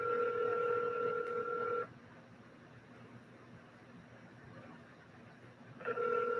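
A telephone call being placed: two steady tones sound at the start, then a quiet hiss-filled line with a faint repeating ringback pattern, and the tones return near the end; no one speaks.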